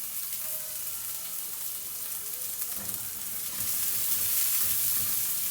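Spring onions and onions fry in a pan for Mexican rice, a continuous close sizzle that swells louder toward the end.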